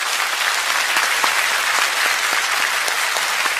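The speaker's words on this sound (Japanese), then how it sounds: "一緒にリハーサルからずっと頑張って今日までやってくれたミュージシャンの皆さんに温かい拍手を送りましょうか" A concert audience applauds the musicians at the end of a live show, a dense, steady wash of clapping that fills the space without pause.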